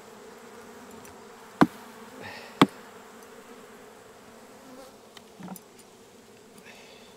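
Faint honey bee buzzing around a hive frame hums steadily at low level, broken by two sharp clicks and a brief soft knock; no voices.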